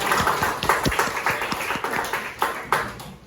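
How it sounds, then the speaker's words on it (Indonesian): A classroom of students claps for classmates in a maths discussion lesson, quick scattered claps of moderate loudness that carry on for a few seconds with no talking. "berikan tepuk tangan buat Ipan dan Rizka."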